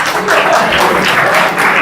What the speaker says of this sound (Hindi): बस कर दो ये कल्चर तालियों का।